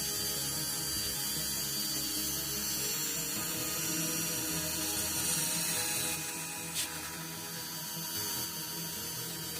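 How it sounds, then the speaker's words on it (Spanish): A rotary tool fitted with a circular cutter grinds slowly on plastic model parts for a Revell Razor Crest, giving a continuous high, buzzing whine with slight rattling, fairly close and steady, with one brief sharp click. "Con una fresa circular intentaré hacer más fino el trabajo"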